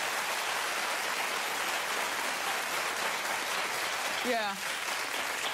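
A studio audience on a talk show claps in a steady, dense wash that fills the whole stretch, with a brief voice cutting in near the end.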